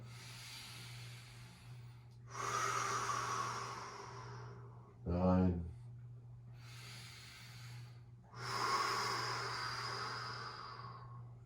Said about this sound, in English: Breathing all the way in for 10.